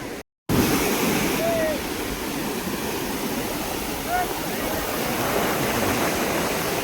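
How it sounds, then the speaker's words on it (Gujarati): Sea waves at Somnath wash and break in a constant broadband roar, loud and near, running steadily after a brief dropout at the start. "આમ તો પાણી ખાલી મોજા કેવા મારે"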